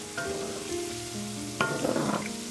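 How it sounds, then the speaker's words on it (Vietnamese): Sweet potato balls fry in hot oil, a steady soft sizzle throughout with a burst of louder crackling and bubbling toward the end as the balls are turned. "Trong lúc chiên cũng canh đảo bánh liên tục để bánh được nở đều và chín vàng nha các bạn"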